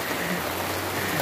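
Steady, heavy rain falls outdoors on a hot day, a dense continuous hiss close by with no voices.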